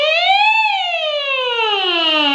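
A singer's voice imitates a siren, sweeping smoothly upward and then gliding slowly down in one continuous, loud, bright vocal slide that has no words.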